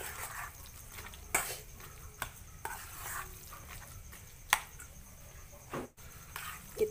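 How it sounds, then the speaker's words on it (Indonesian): Spoon stirring a seasoning mixture in a pan for pepes tahu, with soft scraping and several sharp clinks against the pan over a faint background hiss. "Kita aduk-aduk sampai bumbunya ini benar-benar merata."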